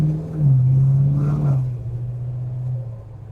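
A 1979 GMC Street Coupe pulls steadily under way, its engine note rising then dropping slightly as a gear change goes through, a low continuous rumble from inside the cab with no talking.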